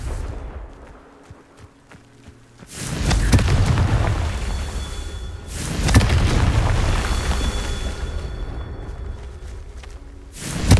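Three deep, booming Confringo spell explosions in the video game Hogwarts Legacy erupt at spaced intervals, each a loud, heavy blast with a rumbling tail that lingers before fading.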